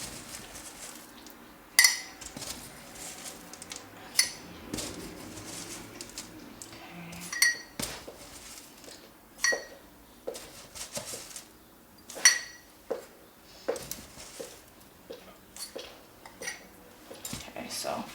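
Spoon scooping old-fashioned oats into a measuring cup, giving scattered soft scrapes and sharp little clinks of metal against the cup, irregular and close, with quiet stretches between.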